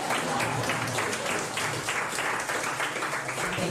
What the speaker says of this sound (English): It says pause for applause here